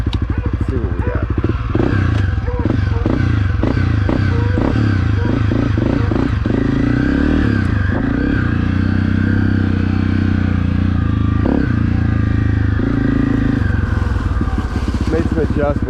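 A Honda CRF250F dirt bike with adjusted throttle and EJK fuel settings runs loud and close on a test ride, its engine putting steadily with rises and dips in revs and some rattling clatter.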